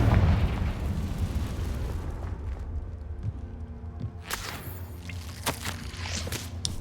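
A Confringo spell explosion in the video game Hogwarts Legacy opens with a loud, rumbling blast that decays into a sustained roar, with sharp crackling bursts and pops later on.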